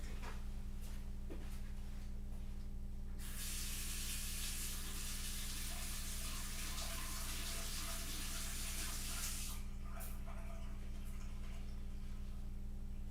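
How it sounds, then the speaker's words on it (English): Running water gushes loudly from a tap for several seconds as a paint brush is rinsed, stopping abruptly before a few faint drips and clicks. "I go wash my brush"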